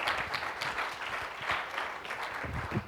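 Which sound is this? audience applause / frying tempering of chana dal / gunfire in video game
audience applause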